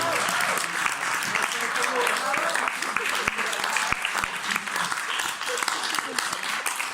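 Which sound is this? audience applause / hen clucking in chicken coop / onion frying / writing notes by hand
audience applause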